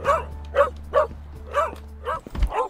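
A dog in the video game Pets Hotel barks six times in an uneven rhythm, each bark short and clear. The barks sound close against a faint steady hum.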